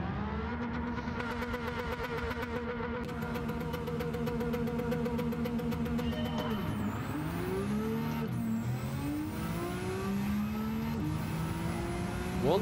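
A race car engine in Gran Turismo 7 screams under hard acceleration during a 0 to 400 acceleration battle. A sustained, loud, buzzing whine climbs in pitch, drops briefly at gear shifts, then climbs again, with no voices over it.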